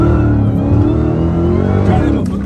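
A 900 hp Dodge Hellcat fitted with a JLT intake pulls hard after a downshift, its engine roaring loud and close with a steady harmonic drone through the whole stretch, and a voice talks over it.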